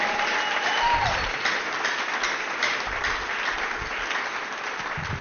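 Church congregation clapping to praise God, sustained full-room applause at steady volume, with faint voices and cries mixed in and no speech in front.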